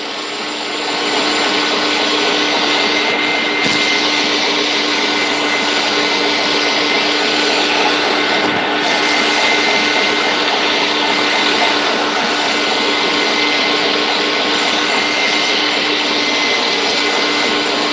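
An electric meat grinder works through bratwurst meat at a 3/16 grind, a loud, steady, close motor whine with a rough, grinding texture that continues without a break.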